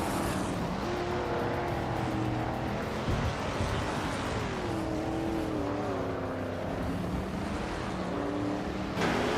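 Race cars in a video game roar continuously with rising and falling engine whines as several cars jostle closely, a steady, dense motor drone with no voices.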